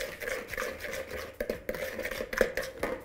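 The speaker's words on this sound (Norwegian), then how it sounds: "Så rører vi den rundt." A spoon clinks and scrapes against a bowl while a spice mix of chili or cayenne pepper and salt is stirred, giving a quick irregular series of close taps.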